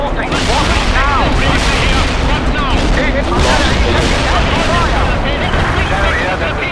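Heavy artillery fire in the real-time strategy game World in Conflict: a loud, dense and continuous barrage of overlapping booms and rumbling blasts that keeps up for the whole stretch.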